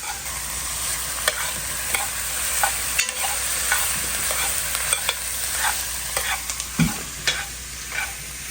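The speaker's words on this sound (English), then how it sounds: "And finally comes the carrots. And we're gonna let this saute for maybe 2 minutes" Carrots sauteing in a pot for cheeseburger soup, a steady close sizzle of frying with repeated scraping stirs and light clicks of a utensil against the pot, no voices.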